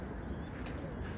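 Pigeons cooing at a loft that keeps ornamental birds, a steady low murmur of soft coos over constant outdoor background noise, with no voices.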